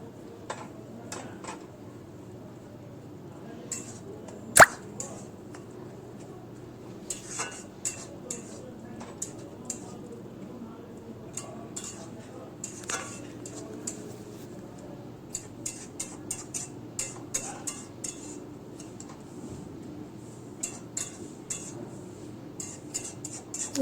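Eggs get added to a poppy seed gravy in a pan and mixed, heard as quiet, intermittent clinks and taps of a utensil against the pan over a low, soft background, growing busier toward the end.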